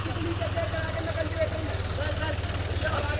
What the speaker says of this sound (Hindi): ये जॉन डियर 5310 है।